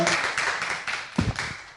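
A small audience claps during a Korean talk show taping, a short patter of hands that thins out across under two seconds, fairly close and moderately loud.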